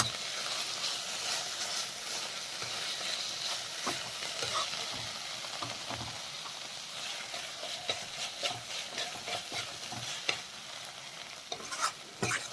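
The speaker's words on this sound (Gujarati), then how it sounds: "તો ફૂલ ગેસે સતત હલાવતા રહીએ અને આપણે શેકી લઈશું" Bottle gourd halwa is stirred and roasted in a kadai over a full flame, giving a continuous close sizzle with repeated scraping strokes of the spoon, loud and with no talk.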